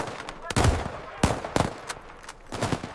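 Rifle gunfire in a dramatized 1879 British battle against Zulu warriors at Isandlwana, with several sharp, loud shots spaced irregularly through the moment and shouted voices mixed in.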